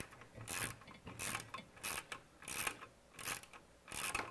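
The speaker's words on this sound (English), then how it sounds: "This one is easier to move the ratchet on the back side." A ratchet tightens a bolt on a swerve module fuel mechanism. It makes repeated short bursts of faint clicking, about seven strokes in a steady rhythm, heard close up with no talking.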